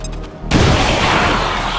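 Frag grenade blast in XCOM 2: War of the Chosen, arriving as one sudden loud boom after a quieter moment and rolling into a long, dense rumble with scattered debris that sustains to the end.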